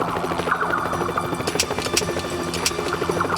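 A helicopter's steady throbbing rotor drone fills the clip, continuous and fairly loud, with no voices.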